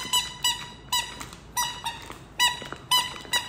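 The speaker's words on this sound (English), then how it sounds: "I got four balls. And they squeak." Squeaky dog toy balls for a Shih Tzu squeak in short bursts, about eight sharp squeaks at a steady uneven rhythm, close and clear with no talking.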